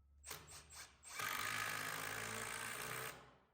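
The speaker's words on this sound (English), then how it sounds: "we're going to secure this in place using some framing screws" A power drill gives a few short bursts, then runs steadily for about two seconds as a framing screw drives into wood, close and clear.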